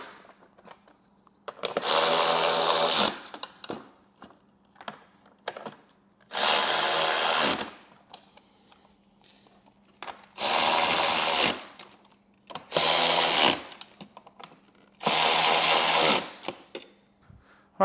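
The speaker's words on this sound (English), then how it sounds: "we'll take our Milwaukee battery ratchet and tighten all these up" A Milwaukee battery ratchet whirs in five loud, steady bursts of a second or so each while tightening speaker pod bolts, with quiet gaps and faint clicks of handling between runs.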